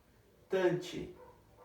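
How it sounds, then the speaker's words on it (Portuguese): A pack of dogs near a house lets out a short burst of barking and yelping, fairly close and loud, then fades away. "tem uma cachorrada aqui perto de casa que, olha aí, ó, é bravo"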